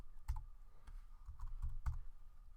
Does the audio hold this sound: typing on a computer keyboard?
yes